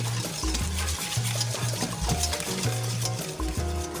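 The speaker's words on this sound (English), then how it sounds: "I'm just going to give it a quick whisk before I add the stuff in the stove" Batter of eggs, sour cream and vanilla for a chocolate Guinness cake being whisked in a bowl, a close, continuous scraping and tapping stir with a faint low hum beneath.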